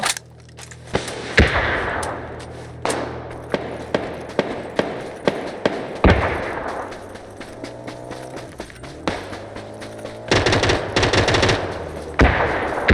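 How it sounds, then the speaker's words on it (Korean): Rapid bursts of automatic gunfire in a video game crack out repeatedly in close, loud volleys, with pauses between clusters and a long sustained stream near the end. "위에 위에 총 쏴줬어 내가"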